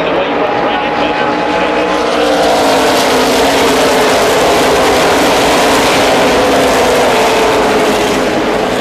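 Loud, dense roar of a tightly bunched pack of ARCA stock cars accelerating after the green flag at Daytona in 2014, a continuous engine drone filling the whole stretch with no pauses.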